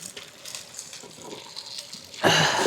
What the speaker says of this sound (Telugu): కొద్దిగా వాటర్ని తీసేస్తాను.